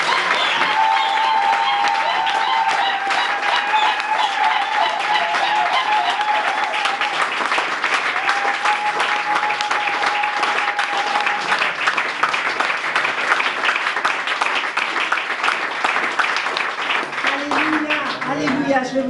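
A church congregation applauds at length, dense sustained clapping from a large crowd filling the room, with voices and singing threaded underneath and a speaker heard over it near the end.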